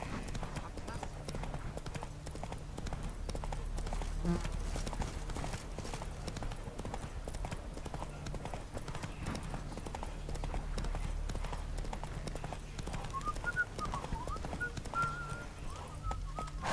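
Horse hooves clip-clop at a steady pace in The Witcher 3 game, close and continuous over game ambience, while a voice speaks now and then and a brief whinny sounds.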